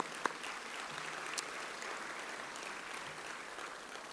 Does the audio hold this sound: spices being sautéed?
no